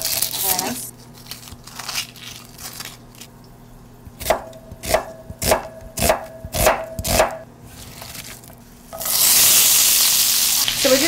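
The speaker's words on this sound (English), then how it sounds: "you're going to wait for that cumin to splutter just a little bit" Cumin seeds spluttering in hot oil in a home kitchen, cooking for a spinach and yellow moong dal dish, give a run of sharp pops and crackles, then a steady loud sizzle near the end.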